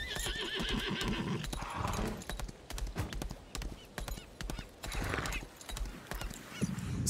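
Horses in the video game Lost Ark clop their hooves in an uneven, busy rhythm while one whinnies, all fairly quiet and close, with no talking over them.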